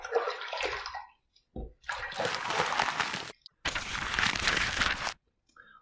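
Water splashes over a freshly shaved head during rinsing: a short splash, a pause, then two longer, fuller bursts of pouring and splattering water close by, each broken by brief silence.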